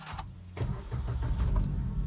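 A Maruti Suzuki Baleno's engine starts with the clutch pressed, a brief cranking burst that settles into a steady close idle with no talk.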